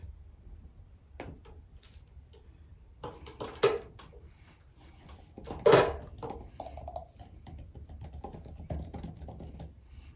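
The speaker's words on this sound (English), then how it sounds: "And then I want to test the typing." Typing on an Apple Magic Keyboard: soft, close key clicks in an irregular rhythm, with a few louder taps standing out, heard alone in a quiet room.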